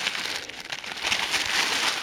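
Plastic bag and red paper from a Bard's Tale IV premier collector's edition box crinkle and rustle up close in a steady, busy stream of dry crackles that grows slightly louder toward the end.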